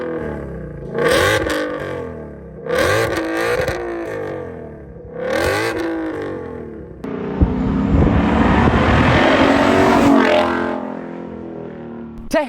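A 760-horsepower 2020 Ford Shelby GT500 engine revs hard three times in quick bursts, then holds a long, loud, roaring rev before dropping off.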